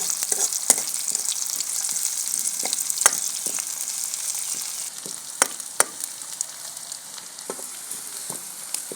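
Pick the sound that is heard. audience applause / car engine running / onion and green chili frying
onion and green chili frying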